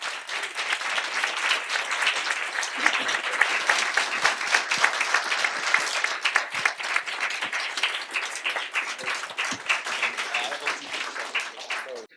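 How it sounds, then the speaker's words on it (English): A convention audience at Scotiacon 2025 breaks into sustained applause, dense crackling claps from many hands lasting over ten seconds at an even level, with some voices mixed in. "a round of applause for our heroes"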